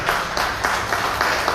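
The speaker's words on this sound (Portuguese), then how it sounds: "E as palmas louvem ao Senhor Jesus." Church congregation clapping in praise during a worship service, a fairly loud steady run of hand claps with a rhythmic pulse, no speech over it.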